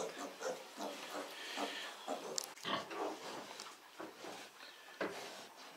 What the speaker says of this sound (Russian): Это свиноматка.